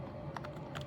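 Typing on a Snpurdiri 60% wired RGB gaming keyboard: a few quick, soft key clicks in two small bursts, close but faint over a steady background hum, with no voice.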